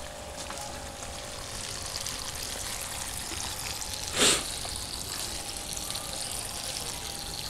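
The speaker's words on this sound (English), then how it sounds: "Fill up with water." Water pours steadily into a container in a backyard garden, a continuous close hiss with one brief splashy burst midway.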